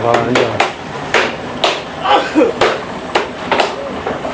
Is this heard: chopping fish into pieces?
yes